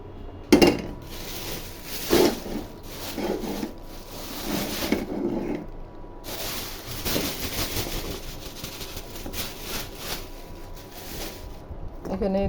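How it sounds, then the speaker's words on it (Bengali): Leafy greens are handled and rinsed in a metal pot or bowl, with clanks, knocks and rubbing sounds under steady water and scraping. Someone speaks throughout. "এই শাকটাকে এখন ধুয়ে কেটে নিব সুন্দরভাবে"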